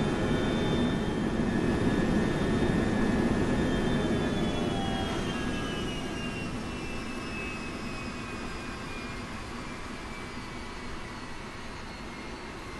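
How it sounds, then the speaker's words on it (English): Pratt & Whitney JT3D turbofan jet engine noise from a Lufthansa Boeing 707: a broad, steady roar with high whining tones that slide slowly downward, loud at first, then easing slightly. No voices. "will reproduce the Pratt & Whitney JT3D engine noise"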